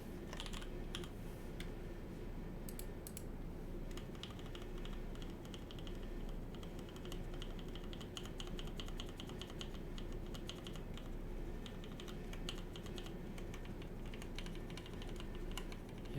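Typing on a custom Keycult No.1 tenkeyless mechanical keyboard fitted with lubed vintage black switches, a steady run of close, crisp keystrokes clattering on without pause and with no voices.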